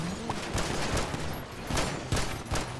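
Pistol shots in GTA 5 roleplay, a few sharp cracks spaced irregularly over a noisy, busy background.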